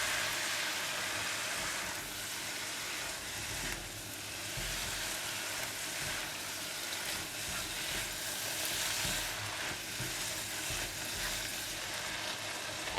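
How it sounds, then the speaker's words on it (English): Bean sprouts and chili sizzle and crackle steadily in a hot pan while being flipped and stirred, a close, continuous frying hiss with faint scraping and no voice. "Now I'm going to flip and stir to cook the bean sprout evenly."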